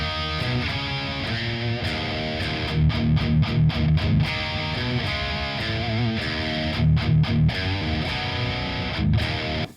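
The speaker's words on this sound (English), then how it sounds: "The distortion is up to 8, and it still doesn't sound like it's a super hot, searing distortion right now." A heavily distorted electric guitar through a BluGuitar Amp1 Iridium Edition amplifier plays thick, sustained chords with rhythmic chugging bursts, loud and saturated throughout with no voices.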